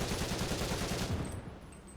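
Machine gun fire in War Thunder from a stock ARL-44 tank in realistic battle: a rapid, steady burst of close, loud shots rattling for over a second, then tapering into rumbling engine noise.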